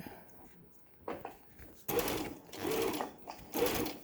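A sewing machine stitches a straight seam on a tote bag in short bursts, whirring stitches starting and stopping several times, close and fairly quiet with small mechanical clicks between runs.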